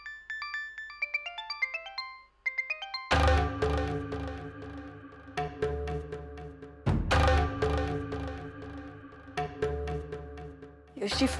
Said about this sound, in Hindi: फोन उठाइए, फोन उठाइए।